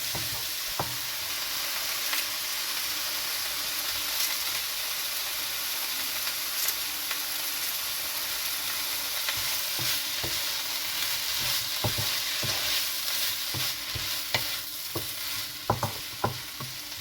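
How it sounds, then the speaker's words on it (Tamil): Mint and tomato sautéing in a pan for a Tamil coriander-mint chutney, with a steady close sizzle and frying hiss throughout and occasional sharp scrapes and clinks of stirring. "இது நல்ல புதினா இதெல்லாம் கொஞ்சம் நல்லா வதங்கணும்."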